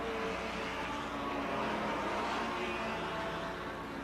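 Formula 1 and Formula 2 racing cars, including Lancia Ferraris, Porsche sports cars and a Cooper, pulling away at the start of the 1957 German Grand Prix, heard as a faint, muffled, continuous engine drone in an old recording.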